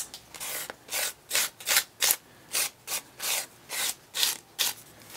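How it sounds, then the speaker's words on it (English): A piece of cardboard scrapes heavy body acrylic paint across paper in about ten distinct rasping strokes, each a short, bright, close-up swipe separated by brief pauses. "I'm just taking a piece of cardboard, I'm just going to scrape it across like that"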